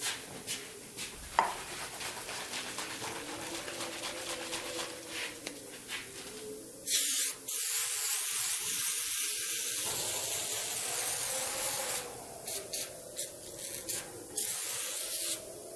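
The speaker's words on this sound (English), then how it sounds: "So we'll try the oven cleaner over here, leave that sit for 10 and see what happens." Oven cleaner is sprayed from an aerosol can onto the painted body of a classic car in a close, steady hiss that stops briefly and then resumes, with some rubbing and handling noise between bursts.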